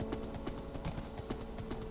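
Horse hooves clip-clopping in the video game Minecraft, a steady run of repeated footfalls near and moderately loud, with no talk over them.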